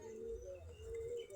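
Local native pigeons from a flock of about forty pairs give a short, faint, low rolling coo, heard alone and nearby.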